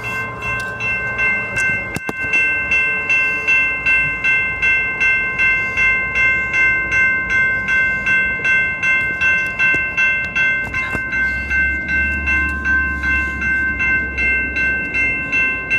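A BNSF train rolls past close by, loud and sustained, with a steady rail rumble and bright horn-like tones held across the pass, then a deeper low rumble near the end.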